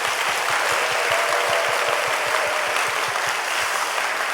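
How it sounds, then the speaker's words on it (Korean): An audience at a church classical concert gives the orchestra a round of thanks, steady dense clapping with a rhythmic beat throughout, loud and close, with no voices. "우리 관현악단 분들 오늘 은혜로 섬겨주신 분들에게 우리 감사의 박수 다시 한 번만 좀 부탁드립니다"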